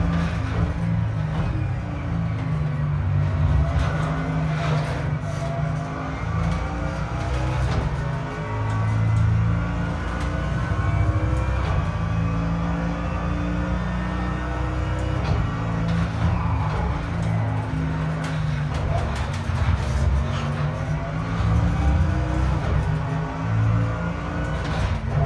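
A Force2Motion Beast, the production version, drives through a curve on cold brakes, its engine holding a loud, steady drone for the whole stretch.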